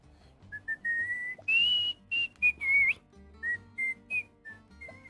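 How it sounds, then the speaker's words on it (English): A series of short, tuneful whistled notes rising and wavering, with brief pauses between them, over a low steady game background. "Stop whistling, you're too loud, old man."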